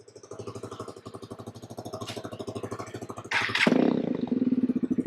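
A Honda XR150 motorcycle fitted with an aftermarket exhaust runs close by, its single-cylinder engine thumping in a rapid even pulse that briefly revs louder before settling back to a steady idle.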